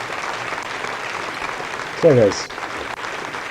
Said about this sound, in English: you hear the applause now from the people here in Jupiter